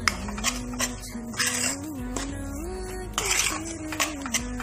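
A thick jaggery and ghee paste stirred in a pan over a simmering gas flame: a continuous scraping of a utensil against the pan with clinking knocks, over a steady background tone.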